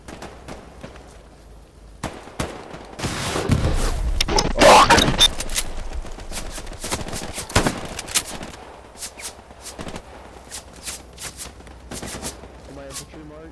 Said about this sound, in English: We're shooting at that doorway.